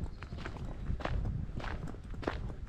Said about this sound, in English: as you're just walking here in the countryside